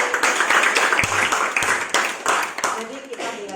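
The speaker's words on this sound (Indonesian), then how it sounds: "tepuk tangan untuk Pande" Students in an Indonesian language class clap for a classmate, a close, busy wash of applause that stays loud throughout, with voices talking over it.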